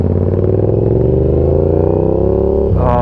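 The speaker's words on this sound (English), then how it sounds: "This is the first time that I am sitting on this bike with this new exhaust" A Yamaha R7 motorcycle fitted with an SC Project CR-T exhaust drones loudly and steadily up close as its engine note climbs. A sharper rev blip comes near the end, with no voices.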